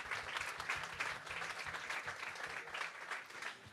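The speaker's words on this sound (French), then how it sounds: "Je vous demande de les applaudir également, s'il vous plaît." An audience applauds award winners at a tourism tech prize ceremony, with dense sustained clapping from many hands, heard at a moderate distance, and no speech over it.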